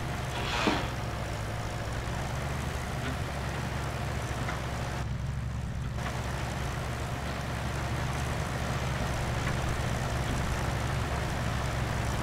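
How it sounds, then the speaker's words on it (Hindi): A tractor pulling a superseeder in the Farming Simulator 25 video game, a continuous loud engine drone with steady low hum throughout, no talk. "ट्रैक्टर खींच रहा है एकदम"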